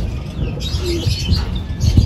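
Pigeons coo softly as they return to the loft at a racing-pigeon training session in Rosales, Pangasinan, with low murmuring calls and faint wing flutters close by, set against steady outdoor background noise.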